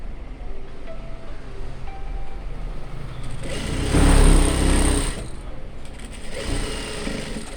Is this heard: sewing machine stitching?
yes